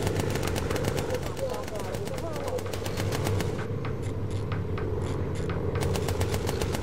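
Rapid bursts of aircraft machine-gun fire in the bomber game Bomber Crew rattle out over a constant engine drone. The fire is sharp and evenly spaced, its rhythm loosens partway through, and a voice talks over it at times.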